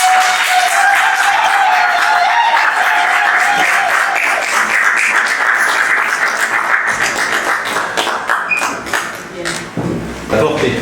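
Wedding guests applaud the newlyweds in a long, dense wash of clapping that thins toward the end, with voices and a sustained ringing tone running through it.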